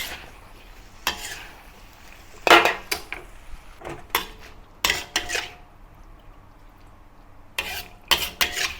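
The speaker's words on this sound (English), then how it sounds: "Have a quick stir." Spatula or spoon stirs Ayam Paprik, a Thai-style spicy chicken stir-fry with onion, in a pan, giving sharp scraping clatters in irregular bursts, close and fairly loud over a low kitchen background.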